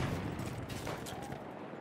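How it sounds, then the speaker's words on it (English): Hostile machine gun fire in the Battlefield 1 video game rattles in a dense, sustained burst with no clear gaps, fairly close and filling the whole stretch. "Machine gun, hostile."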